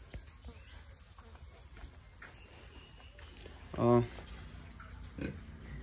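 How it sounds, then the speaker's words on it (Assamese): Pigs on an Assam pig farm, Duroc and Yorkshire crossbreeds, give one short, fairly loud grunt or squeal partway through, with a fainter call later. Steady insect chirring runs underneath the whole time. "মোৰ গাহৰি ফাৰ্ম বৰ্তমান 13টা গাহৰি আছে"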